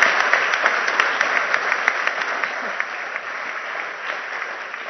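Steady audience applause fills a sports awards ceremony at the Petersfield business and community awards, dense clapping holding at a fairly even level for the whole stretch with a few sharper individual claps on top.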